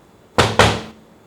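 Two sharp knocks on a door, close and loud, one right after the other with a brief ring after each, then silence; no voices.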